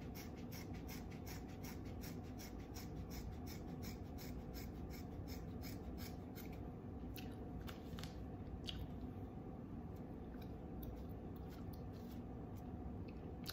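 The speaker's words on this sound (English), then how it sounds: "I just twisted the hair and now I'm cutting." Scissors snip through twisted hair in a steady run of crisp cuts, close up, over a constant hiss of background noise, with no talking.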